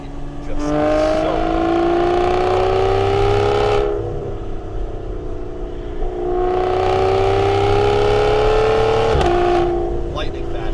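A 2015 Aston Martin Vanquish with a ZF 8-speed gearbox, heard up close as its engine climbs in two loud accelerating pulls, each cut short by a quick gearshift.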